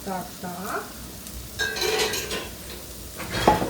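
Minced meat frying in a pan alongside onion and zucchini, a steady close sizzle with spatula scraping and stirring against the pan, a brief clink of utensils near the end.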